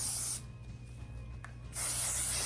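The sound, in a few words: spritzing hairspray onto hair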